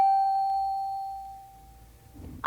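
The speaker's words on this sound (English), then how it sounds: "I'll play one of my radio chimes like this" A single bright electronic radio chime rings out alone as one sustained clear tone with fading overtones, dying away over about two seconds before a brief knock at the end.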